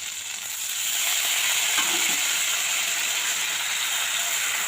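Water hits a hot, well-fried spice paste with a whole green chilli for a koi fish curry. The sizzle swells within the first second into a loud, steady hiss of steam and frying that holds to the end. No one speaks.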